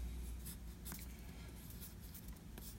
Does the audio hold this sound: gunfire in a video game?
no